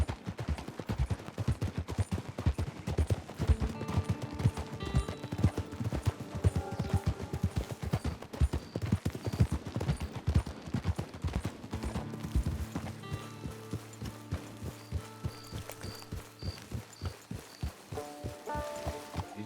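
In the Red Dead Redemption 2 video game, horse hooves clip-clop in a steady, rapid gait, mixed with bursts of gunfire and a musical score underneath.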